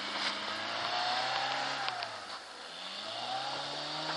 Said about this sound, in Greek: γιατί πατάμε γκάζι